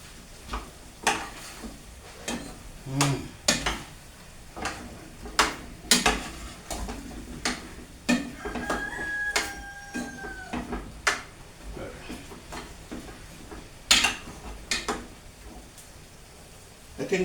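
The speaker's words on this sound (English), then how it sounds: "I'm gonna add and give it a stir" A spoon stirs curry chicken in a pot, repeated scraping knocks and clinks against the metal with a soft sizzle underneath, steady and close.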